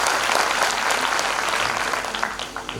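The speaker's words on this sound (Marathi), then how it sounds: "एकदा जोरदार टाळ्यांच्या गजरात त्यांना अभिवादन करायचं आहे" Loud, sustained applause from a large audience at a Marathi lecture event honouring Savitribai Phule, dense clapping filling the whole stretch and tapering slightly toward the end.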